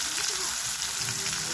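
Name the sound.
capsicum and tomato frying with turmeric and salt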